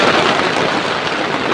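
Heavy rain pours steadily in a village setting, a dense, loud and even hiss of falling water with no gaps and no voices.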